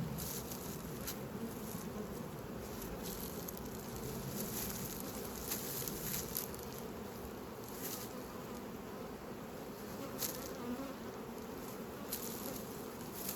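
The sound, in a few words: honey bees buzzing around hive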